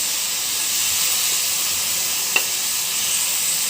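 Taro stolons and potato pieces hitting hot spiced oil in a pan give a steady, loud, close sizzle and hiss that carries on evenly throughout, with one brief tap near the end.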